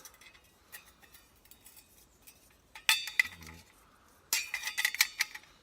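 Parts of a small metal twig wood-burning stove clink and rattle together as it is assembled outdoors: sparse light ticks, then two louder bursts of metallic clatter, close and alone.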